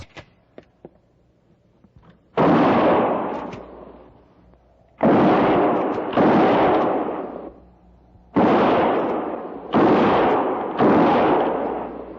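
Gunfire sound effect in a frontier-era radio drama: six loud, close, broad bursts of shots in irregular clusters, each ringing out with a short decay, separated by near-silent gaps, with no talk.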